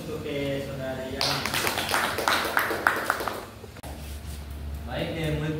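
Audience applause for a student after a microteaching classroom talk, a burst of clapping lasting about two and a half seconds, with talk before and after it.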